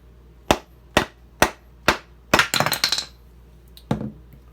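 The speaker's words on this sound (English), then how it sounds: "Take your mallet and you just hit it a few times." A mallet strikes a Tojiro Shirogami santoku's wooden handle block to loosen it, giving five sharp, separate knocks followed by a quick flurry of lighter taps and one final hit, close and loud.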